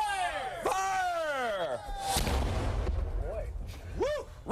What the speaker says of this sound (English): Prepare for gunfire!